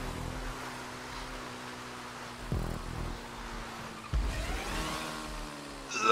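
Motorbike speeding in Grand Theft Auto, its engine a faint, steady drone with brief surges around the middle and a rise toward the end.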